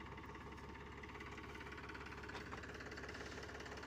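A farm tractor engine runs steadily at idle with a continuous low knocking rumble and vibration, close by and alone, with no voices.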